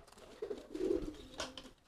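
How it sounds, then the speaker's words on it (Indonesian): A racing pigeon gives a soft, low, rolling coo close by, one short phrase followed by a brief rustle in a quiet space. "Ini merpati balap."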